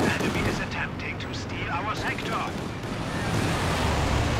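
Gunfire in the World War II strategy game Company of Heroes 2: a dense, continuous barrage of shots and heavy rumbling fire that holds a steady loudness throughout, with a voice talking over it.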